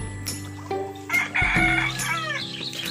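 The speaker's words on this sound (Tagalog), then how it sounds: "Ito yung mga manok ko. Rhode Island yan" Rhode Island and Barako chickens on a farm, with a loud close rooster crow rising over steady clucking and hen calls in the background.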